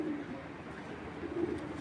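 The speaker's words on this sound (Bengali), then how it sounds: "এটা একটা নর কবুতর, খাকি নর, সিলভার গলার খাকি।" A khaki male pigeon with a silver neck coos in low, throaty rolls, one at the start and another near the end over a steady hum, close and without voices.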